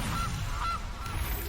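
Goose honks from the MTG Arena video game, a few short nasal calls repeating over a steady low rumble of game background sound, fairly loud and close.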